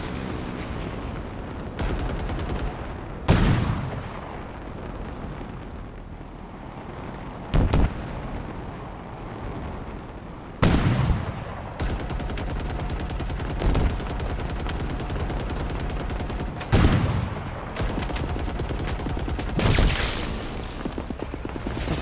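Repeated gunfire from a Halo Infinite battle, with dense bursts of automatic fire and several sharper, louder blasts spread across a continuous, loud combat soundscape.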